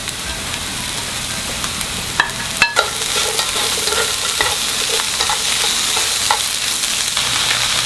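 Fish cake stir-frying in a pan with carrot, onion, chives and chopped chili, a steady close sizzle with scraping stir strokes and a few sharp clacks of the utensil, no talking.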